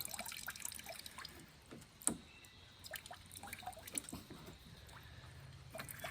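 Water dripping onto the grinding head of a gemstone cutting and polishing machine, faint scattered drips and small splashes at an irregular pace, heard alone.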